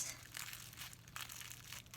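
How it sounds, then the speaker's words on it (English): Scissors cut bubble wrap into strips for a fruit-cup jellyfish craft, giving close, continuous crinkling and crunching plastic with small snips. "Now I have to slice it up. So using my scissors again"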